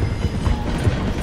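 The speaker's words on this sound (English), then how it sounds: "The train is slowing down to go through the station." A train in the video game Red Dead Redemption 2 slowing down to pass through a station, giving off a loud, steady rumble of wheels and carriages heard up close.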